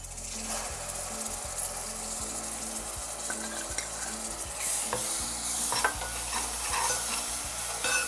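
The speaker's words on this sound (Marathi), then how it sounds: "हलद टाकते तेलामध्ये थोडंसं परतवून घेऊया आता वाटण करून घेतले ते टाकते" Turmeric and ground masala paste fry in oil for a mudskipper curry, a steady close sizzle with repeated spoon stirring and scraping knocks against the pan, growing louder toward the end; no voices.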